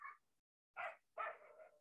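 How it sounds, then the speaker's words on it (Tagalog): Several dogs bark in short, sharp bursts: one quick yap, a pause, then two louder barks close by, the last trailing into a longer yelp, with no voices present. "ano ba yung mga aso ko?"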